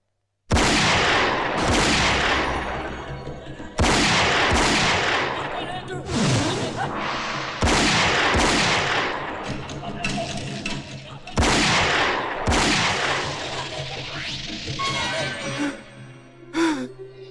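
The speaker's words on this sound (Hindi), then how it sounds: "मुझको गोली किसने मारी?" Gunshots in a Hindi movie scene: a series of loud, echoing blasts, about six spaced over the stretch and each trailing into reverberation, followed near the end by a strained voice.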